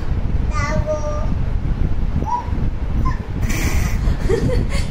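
A small child imitates a dog with a few short, high whimpering yips and babbling sounds, close and clear over steady background noise and wind.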